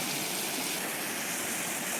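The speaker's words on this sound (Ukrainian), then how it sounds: "ось це водоспад, коли вода спадає із висоти і тече по камінням" Water tumbling over rocks at a waterfall near Lake Synevyr in the Carpathian mountains, a steady, dense rushing roar that stays constant and close throughout with no voices.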